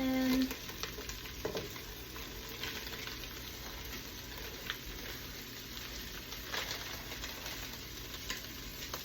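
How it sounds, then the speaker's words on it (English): Chopped onions and bell peppers frying in a pot for stuffed pepper soup: a soft, fairly quiet continuous sizzle with scattered crackles and stirring scrapes, a brief tonal beep at the very start. "Here's the onions and peppers going in."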